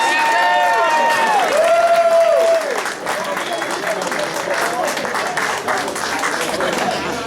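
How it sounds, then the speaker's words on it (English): Audience applause at a vinyl-records awards ceremony in Philadelphia, a roomful of people clapping steadily with some cheering while a voice calls out over it, the clapping continuing after the voice stops. "let's have a round of applause."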